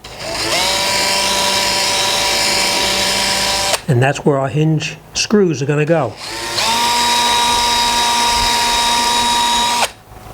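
A power drill bores a very small hinge hole in a cabinet door, a loud steady whine running before and after a short stretch of speech in the middle.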